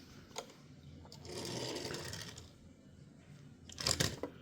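A custom 2018 Ford Mustang GT model car rolls along, giving off a faint whirring, rattling mechanical noise with a few sharp clicks, growing busier and louder toward the end.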